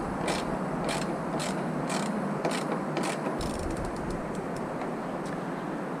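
A ratchet tightens 8mm bolts on a Ford F-150 taillight, a rapid run of crisp mechanical clicks repeating in bursts over steady background noise, close and fairly loud.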